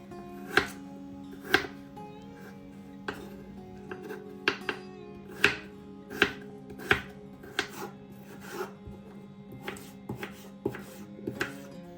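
A knife chops medium potatoes into cubes, a steady series of crisp board knocks about once or twice a second, close and clear over a faint background hum, with no talk.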